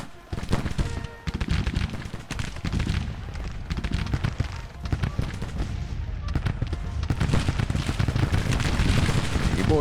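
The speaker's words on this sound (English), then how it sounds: "You boys are in a bowl of rifle fire." Rifle fire in Grand Tactician: The Civil War, a dense crackling fusillade of many muskets firing in ragged volleys, sustained and fairly loud with rumbling battle noise underneath.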